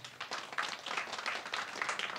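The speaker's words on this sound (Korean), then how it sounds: "박수 한번 해드립시다" A church congregation breaks into applause, a steady wash of many hands clapping from a moderate distance, fairly soft and continuous throughout.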